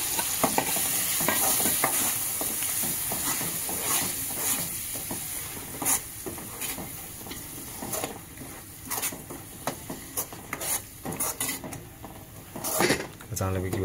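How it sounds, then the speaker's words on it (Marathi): Ground coconut and chili masala roasting in a pan with reddened garlic for a Malvani-style makul (squid) curry, stirred steadily: continuous close frying sizzle under repeated scraping and clinking of a spoon against the pan. "आपण आता जो वाटला होता खोबरा मिरचीचा, तर हे मस्तपैकी ह्याच्यात भाजून घेऊया मसाला"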